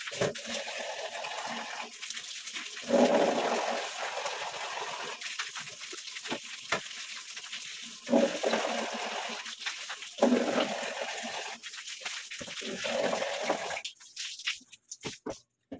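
Water splashes and gushes while a bathroom is washed, coming in uneven, intermittent bursts of running and splattering that rise and fall over about sixteen seconds, fairly close.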